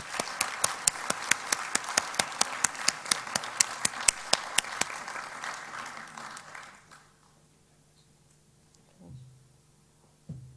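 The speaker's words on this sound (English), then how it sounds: "Another round of applause, please." Scattered applause at an opening ceremony, a few seconds of loud, distinct claps in a fairly regular rhythm that stop abruptly, leaving near silence with a low hum and faint room noise.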